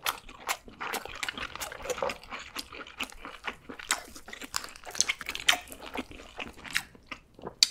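Close, quiet eating of scallop with mustard sauce during a seafood meal, with repeated soft bites, squishy chewing and occasional crunches in an irregular rhythm, no talking.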